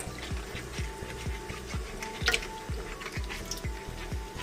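Tap water flowing through sausage casings to check for holes, a soft trickle with rhythmic drips and gurgles at regular intervals, fairly quiet and close.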